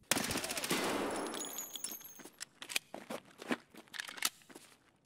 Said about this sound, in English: get some quick shots off and see if we can land a face hit before diving back into cover